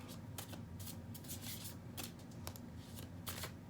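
Tarot cards shuffling in a few quick riffled bursts over a steady low hum, close by and without any speech.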